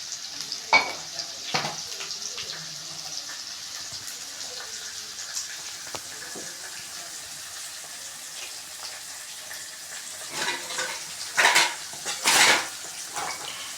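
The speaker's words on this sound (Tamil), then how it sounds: "உப்பு போட்டு வதக்கிக்கலாம்." Onions sauté with salt in a pan for a Tamil fish curry, with a light steady sizzle under intermittent scraping and clinks of a utensil against the pan, louder stirring bursts near the end and no talk.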